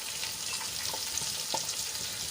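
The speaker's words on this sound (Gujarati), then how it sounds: "એમાં બે નાની સાઈઝની ડુંગળી કાપી લીધી છે આ રીતે ઝીણી ઝીણી એ એડ કરી દઈશું" Two small onions, finely chopped, frying in oil with a sautéed spice paste: a constant hiss of sizzling fills the clip, with a few soft stirring scrapes and clicks near at hand and no voices.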